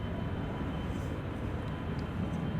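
An Embraer 175 airliner at Schiphol Airport, bound for Düsseldorf, heard as a steady, dense engine roar that fills the whole clip, close and unbroken.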